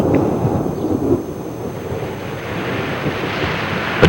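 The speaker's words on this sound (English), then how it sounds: "A day that begins warm and sunny may dissolve into an afternoon shower or erupt into a storm." A thunderstorm in Yellowstone's high country rolls on as a broad, continuous rumble with gusty wind noise. Near the end comes a sharper, louder crack.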